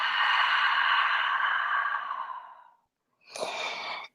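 A long, breathy yoga exhale streams out for nearly three seconds, close and soft, followed after a brief pause by a shorter, sharper breath.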